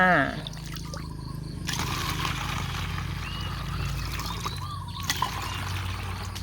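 Liquid microbial fertilizer pours steadily into a plastic bottle, a continuous close gurgling trickle running for several seconds, with brief handling knocks near the end.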